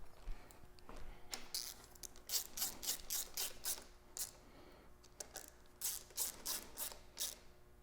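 A ratchet tightens three 12 mm bolts holding a power steering reservoir on a Toyota 80 Series 1FZ-FE engine, giving quick, close clicking bursts in several runs with short pauses between them.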